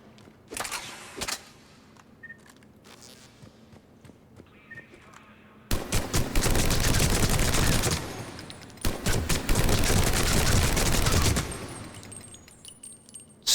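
Typhoon gun firing in Mass Effect 3, two long loud sustained bursts of rapid automatic fire, close and dense, with a few sparse single shots and quiet gaps before them.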